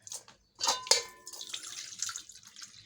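Water poured into a jug for watermelon juice, a soft splashing stream after a few clinks, fairly faint and alone.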